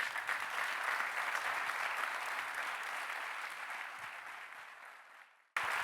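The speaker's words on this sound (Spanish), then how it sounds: "Fuerte el aplauso" Audience at a petrochemical industry conference applauding a panel of CEOs, a dense, sustained clapping that slowly tapers before stopping abruptly, heard from within the hall.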